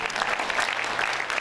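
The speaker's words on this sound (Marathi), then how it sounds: "डॉक्टर भंडारीसाठी आपण एका जोरदार टाळ्या वाजवूया" Seated delegates at a senior citizens' federation convention in Dhule give a doctor a brief round of steady, even applause that fills the hall.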